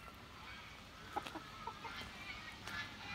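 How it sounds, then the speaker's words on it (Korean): Chickens cluck softly inside an aviary bird house, with a few brief, faint clucks scattered over a steady background hum. "닭이에요, 닭."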